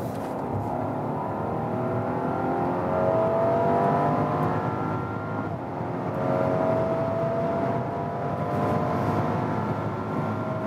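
A Rolls-Royce Cullinan Black Badge SUV speeds up from about 90 km/h, its engine and road noise rising in a smooth, steady cabin drone that builds slightly in the middle, with no talking.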